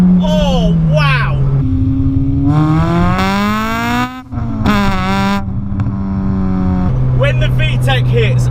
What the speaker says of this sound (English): So, nice little second gear pull for us. Oh, it jumps into the next gear.